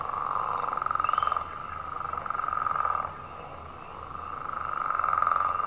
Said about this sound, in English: here's the leopard frog